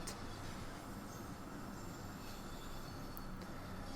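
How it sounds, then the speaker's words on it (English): A Bakerloo Line train in Train Sim World 2 labours uphill with a low, steady rumble of wheels and motors, faint and even throughout, with brief squeals rising over the drone. "we're going uphill, so the train is really struggling"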